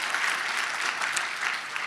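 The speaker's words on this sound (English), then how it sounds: "Yes, big round of applause" A steady burst of audience applause at a political fundraising event, dense and even clapping from a crowd with no talk over it.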